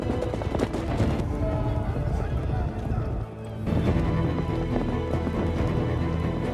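Horses gallop away in a film battle scene, a rapid, loud, continuous clatter of hooves with a brief lull midway, mixed with scattered crashes, under a narrating voice.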